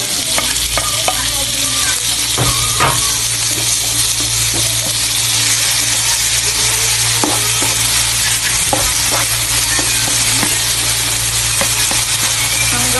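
Tomatoes sautéing in a pan until browned for squid adobo, a loud continuous sizzle with frequent scraping stir strokes and clinks of the spatula against the pan.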